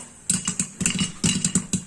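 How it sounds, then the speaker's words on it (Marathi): Popcorn kernels pop inside a covered pressure cooker on a full flame, a quick irregular series of sharp clicky pops clustered in bursts, fairly close and with no talk. "तुम्हाला आवाज ऐकू येत असेल, आपल्याकडे पॉपकॉर्न तयार होत आहे।"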